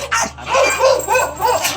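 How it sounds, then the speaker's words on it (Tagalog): An angry dog barks and snarls loudly at close range, giving several rough barks in quick succession. "Grabe, galit na galit yung aso mo."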